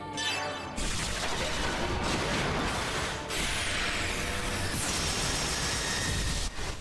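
A charged X-Cannon special attack from the video game Xenosaga Episode III bursts as a dense, loud roar of noisy energy and clanking mechanical crashes, with sweeping high tones layered over it, sustained for several seconds.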